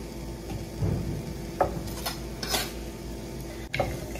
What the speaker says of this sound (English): I'm just stirring this pretty consistently just to make sure nothing burns and make sure that the onions really cook